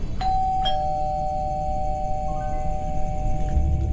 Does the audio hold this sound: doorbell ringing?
yes